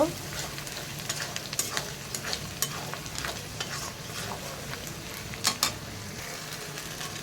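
Whole spices and a bay leaf fry in oil in a pan with a soft, continuous sizzle, broken by occasional sharper scrapes and clacks of a spoon against the pan, heard fairly close and fairly quiet.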